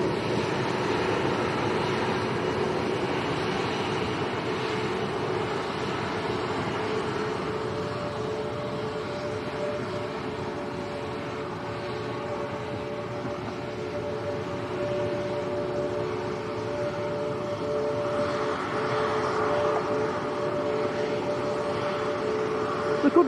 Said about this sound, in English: What a beautiful aircraft.